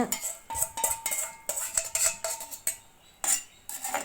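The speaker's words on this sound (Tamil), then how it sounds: "ஊற்றி நல்லா கலந்து விடுங்க" A spoon stirs stingray fish curry in a metal pot, producing repeated close metallic clinks and scrapes in an uneven rhythm, with short pauses between strokes and no voices.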